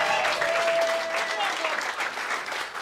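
Audience applause for Dr Bob Gill fills the room with dense, steady clapping from start to finish, easing off only slightly toward the end.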